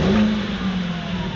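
A Mercedes-AMG off-road vehicle's engine revs hard on a dirt track lap, a short, loud, steady drone from close by with no talk.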